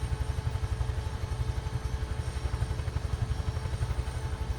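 A Huey helicopter lifting off in Microsoft Flight Simulator during a belly tank operation, with a steady rapid rotor thump and engine drone that holds at an even level throughout, with no talking.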